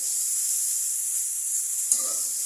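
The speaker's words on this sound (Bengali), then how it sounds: "পেঁয়াজটা আমি কষিয়ে নিতেছি" Chopped onion sautéing in a hot pan for a Bengali fish curry with drumsticks gives off a steady, close frying hiss, with a brief clink near the end as it is stirred.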